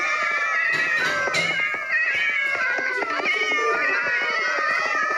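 A crowd of cats meows continuously, many overlapping calls at once, loud and close with no pause.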